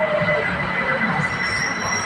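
A BTS Skytrain Silom line train at Saphan Taksin station gives a steady rumble with high metallic wheel squeal and whine as it moves along the platform, close and continuous.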